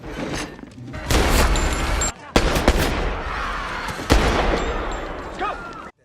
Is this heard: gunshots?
yes